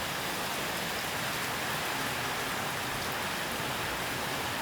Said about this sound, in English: It just started raining. Had a look, the rain is pretty big